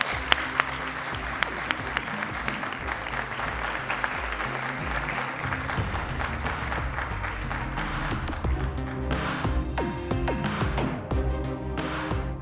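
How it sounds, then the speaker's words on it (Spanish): A live audience at a Cervantino festival show applauds, a dense, sustained wash of many hands clapping that stays loud throughout with a few sharper claps standing out. "Muchas gracias por sus espontáneos aplausos."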